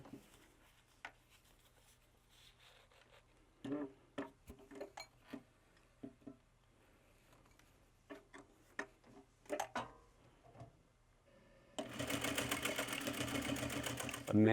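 A sewing machine stitches a sling, heard as a burst of rapid, loud mechanical clatter near the end. Before it come scattered ticks, clicks and handling noises.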